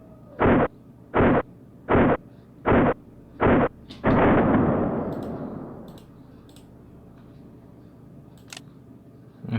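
Full-auto bursts from WOG airsoft guns, an HK MP5K PDW and a CZ Scorpion Evo 3, come as five short, sharp evenly spaced bursts followed by one longer sustained burst that trails off, loud and close with no talk.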